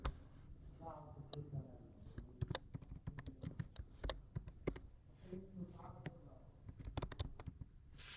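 Quick key clicks on a computer keyboard as a repository name is typed for a new GitHub repo, in irregular bursts and short runs, fairly close, with a voice speaking softly underneath at times.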